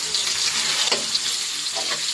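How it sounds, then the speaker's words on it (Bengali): Paneer fries in a large wok, a close, steady hiss and crackle of hot oil with a couple of brief scraping stirs, no voices. "এখন পনিরটা এইভাবে ভাজবো"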